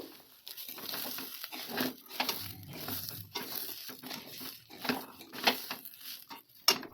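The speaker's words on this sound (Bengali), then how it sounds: "এখন এই যে একটু ফ্রাই করে নিচ্ছি" Rice frying in ghee in a pan for basanti pulao, heard as close, irregular scraping, stirring and crackling of grains against metal, rising and falling in short bursts.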